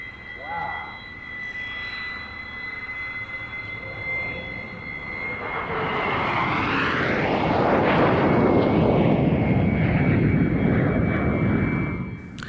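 English Electric Lightning jets at a 1996 Duxford airshow roar past. The jet noise swells from a distant whine into a loud, broad rush that peaks near the end.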